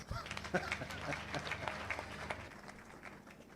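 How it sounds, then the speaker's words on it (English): Audience applause at a morning conference session of an oil and gas industry event, a steady wash of many hands clapping at moderate distance that thins out toward the end. "Let's be generous with the claps."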